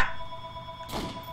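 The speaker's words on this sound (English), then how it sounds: "The phone is ringing." A telephone bell rings in a Nazi zombie co-op video game, a steady electronic ring running through the short moment with a brief thump near the end.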